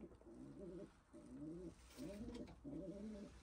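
Young racing pigeons coo in a loft, four soft rolling coos in a steady rhythm, close by and fairly quiet, with no talking.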